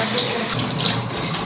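A tap runs steadily into a sink as food is rinsed under the stream while cooking a ramen stew, a close, constant splashing hiss.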